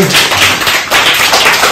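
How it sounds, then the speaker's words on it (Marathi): A group of children claps their hands in a classroom, a dense, loud patter of overlapping claps that runs continuously for under two seconds. "टाळ्या वाजवा त्यासाठी"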